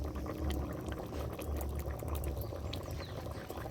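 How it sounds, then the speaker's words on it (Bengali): Water poured into a ground spice paste in a pan while crab cooks, a steady bubbling, sizzling wash of liquid with close, continuous texture and no pause. "এটা আমি হালকা অল্প জল দিয়ে দিচ্ছি"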